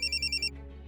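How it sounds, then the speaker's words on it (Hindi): A phone rings with five quick, evenly spaced electronic bursts up close, then cuts off into a quiet room hum. "फोन बज रहा है"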